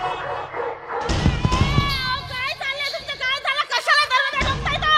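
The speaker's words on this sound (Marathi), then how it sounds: "अरे कुत्रे लागले ना माग" Several dogs bark and yip loudly in quick bursts, mixed with excited shouting nearby, during a Zadipatti folk theatre comedy play.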